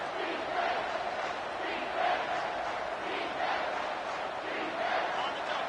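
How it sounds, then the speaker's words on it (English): Home crowd at a football game roaring on third down, a sustained wash of cheering and shouting in a large stadium that swells in waves, with a commentator's voice faintly underneath. "Here comes this home crowd as the defense tries to get off the field on 3rd down."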